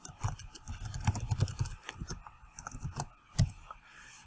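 Quiet, close typing on a computer keyboard, a quick irregular run of soft key clicks with a few louder taps and brief pauses, no talk.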